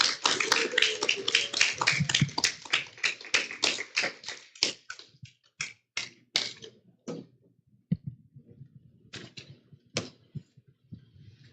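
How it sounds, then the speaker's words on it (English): Audience at a church youth event clapping to welcome a speaker to the stage: dense, sharp applause up close that thins into scattered individual claps and fades out. "So please give a very warm round of applause to welcome Hannah Cho on the stage"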